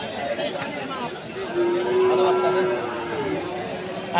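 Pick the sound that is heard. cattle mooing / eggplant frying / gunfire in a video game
cattle mooing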